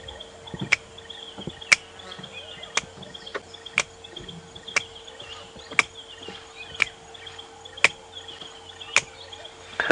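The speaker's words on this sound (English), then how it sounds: "That is the Steeling's wren warbler." Stierling's wren warbler calling at dawn on a safari drive, a sharp, clicking note repeated about once a second in steady, perfectly even rhythm over a faint background of insects and distant birds.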